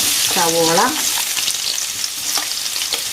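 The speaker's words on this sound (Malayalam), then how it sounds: "ബാക്കി ഇത്രയും കാര്യങ്ങൾ നമ്മൾ വഴറ്റിയെടുക്കണം ഈ വെളിച്ചെണ്ണയിൽ." Onion, green chili, ginger and garlic sauté in hot coconut oil for a fish molee, a loud, continuous sizzle with brief stirring scrapes throughout.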